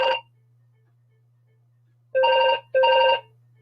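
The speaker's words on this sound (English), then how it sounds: "every time I do a video or a live stream, the freaking phone goes" A telephone rings indoors, with one ring cut off at the start, then a quiet gap over low mains hum, then two close ring bursts in a double-ring pattern.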